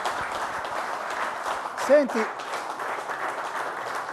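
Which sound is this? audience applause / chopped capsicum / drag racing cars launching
audience applause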